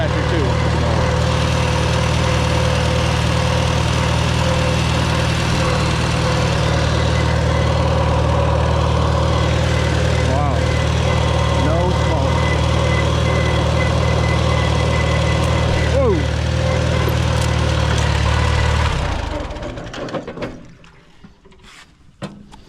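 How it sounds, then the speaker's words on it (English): A Farmall Super A tractor engine idles steadily with a loud, low rumbling drone up close, running evenly for most of the time before cutting off near the end. "it's a Farmall, of course it started, right?"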